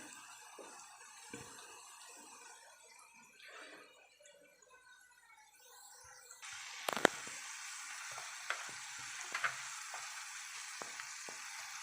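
Half-roasted tadka spitting in a pan as salt, turmeric and masala go in, starting as a faint sizzle and jumping to a louder, crackling fry with sharp pops and stirring clicks partway through.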